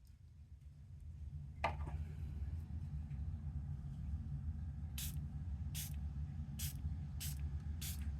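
A spray bottle misting water over Crafter's Companion Colour Creation Powder in a craft session, five short sharp pumped spritzes in the second half, over a low rumble and a faint click.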